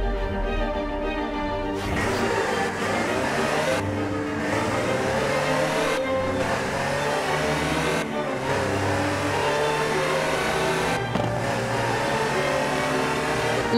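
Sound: Land Rover Type 3 engine revving in Forza Horizon 4 video game

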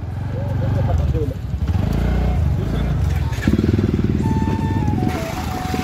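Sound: motorcycle riding off in first gear

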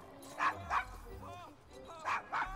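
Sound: dog barking in video game Assassin's Creed Syndicate

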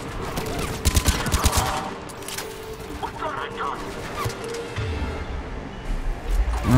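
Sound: Vindicator rifle gunfire in video game Mass Effect 3

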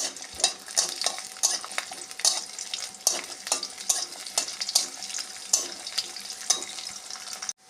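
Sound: garlic frying in oil in a hot wok

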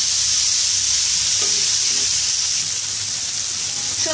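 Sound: vegetables with green chili frying in pan

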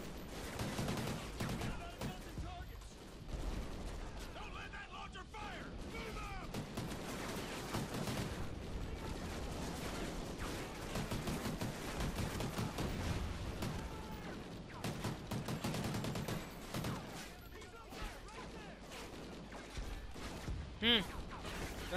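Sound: automatic gunfire in Call of Duty: Ghosts video game

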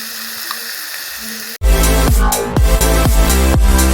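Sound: roasting papad on a gas stove

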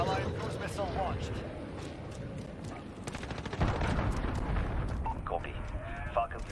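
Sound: gunfire in Modern Warfare video game

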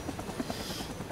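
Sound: helicopter in Rising Storm 2: Vietnam video game

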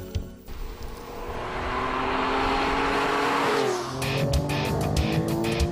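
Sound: Porsche 911 Carrera 4S accelerating

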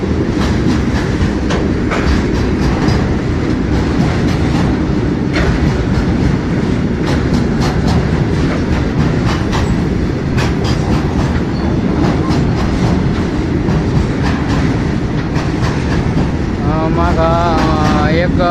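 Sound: freight train of oil tankers passing

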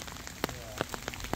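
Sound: rain falling into a pond

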